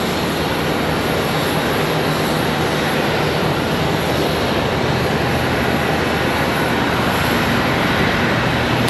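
An American Airlines Boeing 777-200ER at Charlotte Douglas airport, a loud, unbroken broadband jet rumble sustained at constant level throughout.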